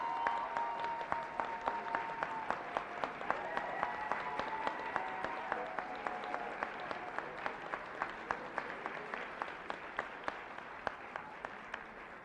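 Applause from an audience at a midyear completion recognition ceremony, honoring family and friends, a soft, sustained wash of clapping with a few distinct nearer claps and a faint steady tone under it.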